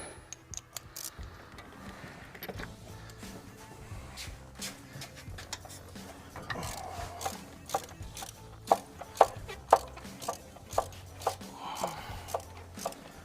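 A socket ratchet turns on the engine of a 1967 Mercury Commuter wagon that has sat for 40 years. Its pawl clicks in uneven bursts that grow louder and sharper toward the end, over a low background hum.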